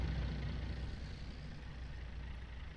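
A diesel truck engine in Farming Simulator 19 turns over and runs with a steady low rumble, loud and continuous with no talking.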